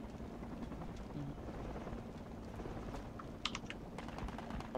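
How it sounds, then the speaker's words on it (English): A helicopter in the Project Reality military game drones steadily at a distance, a low continuous rotor hum under faint keyboard clicks and a few soft taps. "Chippo, here a chopper to my north"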